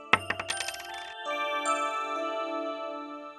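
A phone plays a reminder alert: a quick run of bright, plucked chime notes at close range, followed by sustained ringing tones that linger and slowly fade, with no voices.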